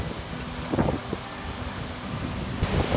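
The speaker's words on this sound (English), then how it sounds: "It's windy!" Strong Icelandic wind roars steadily across the microphone, buffeting in gusts with a low rumble throughout.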